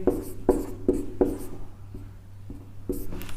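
Pen or pencil writing words by hand on paper, a steady series of short scratchy strokes in a regular rhythm, close and clear, with no talk.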